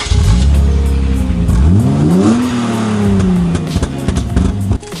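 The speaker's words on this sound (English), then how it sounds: "he has the Stillin catback exhaust" A Hyundai Genesis Coupe with a Stillen catback exhaust revs loudly and close, the engine note climbing sharply then holding and settling back, a deep droning exhaust tone with no talking.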